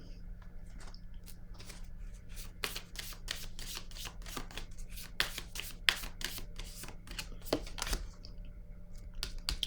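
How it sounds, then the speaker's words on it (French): Tarot cards being shuffled and drawn, a quick run of crisp papery flicks and slaps in close succession, fairly near and steady over a low background hum, with no talking. "Là, je vais piger une carte. Attendez une minute. Je vais piger une autre carte ici."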